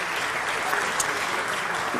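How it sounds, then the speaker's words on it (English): Audience applause at a city council meeting for visiting high school seniors from an Academy of Finance, a dense steady patter of clapping from a room full of people that carries on for the whole stretch. "let's give them a great round of applause"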